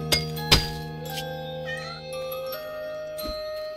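A cat meows in the video game Portal Knights. Two sharp, bright meows come close together near the start, then a third call follows later, with tinkling chime-like tones ringing underneath.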